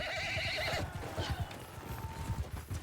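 In the video game Mount & Blade II: Bannerlord, a horse whinnies loudly at the start, followed by a rapid run of hoofbeats clopping over the ground.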